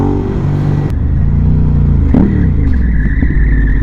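Ducati Hypermotard motorcycle engine revving hard, a loud, close, raw roar that rises and falls as the throttle is worked, with sharp blips and a steady rasping exhaust throughout.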